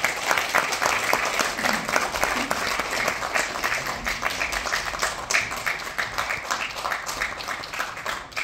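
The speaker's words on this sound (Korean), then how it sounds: "사랑의 박수로 맞아주시기 바랍니다." Audience at a poetry concert in a Daejeon cultural center hall breaks into sustained, dense applause, many hands clapping evenly and loudly for several seconds with no break.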